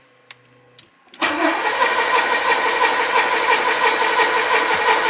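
A Porsche 928 cranks and fires at about one second after a few faint clicks, then settles into a loud, steady V8 idle close to the microphone with no talk.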